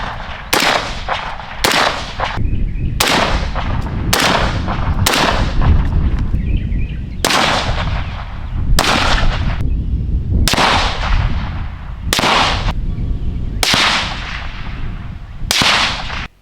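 Rifle shots fired through a Griffin Armament HRT 556 3D-printed suppressor ring out as sharp, loud reports, about a dozen spaced irregularly over several seconds, each with a short decaying tail.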